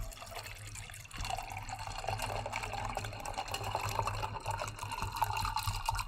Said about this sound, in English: I'm gonna go ahead and pour my tea.